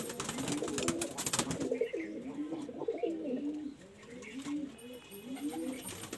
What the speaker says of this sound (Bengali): একটা লাল শিরা আন্ধ্রা পায়রা তোমাদের শখ করাচ্ছি